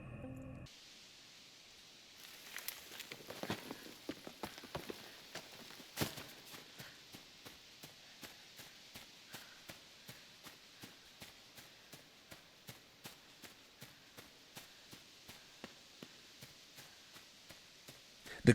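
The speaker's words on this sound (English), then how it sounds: "The creepy ambience is the only sound that accompanies your footsteps, a subtle suggestion that you may not be the only presence in these woods." Steady footsteps tread through an eerie, hissing forest ambience in the video game Inside, the soft regular steps faint and even under a dim, noisy background drone.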